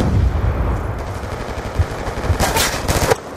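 Loud, close gunfire from a Call of Duty match rattles in rapid automatic bursts with sharp cracks, continuous and dense throughout, with no talk over it.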